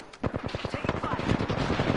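Rapid bursts of automatic gunfire in a PS4 video game, loud repeated shots rattling off in quick succession, mixed with game sounds and faint voice callouts underneath.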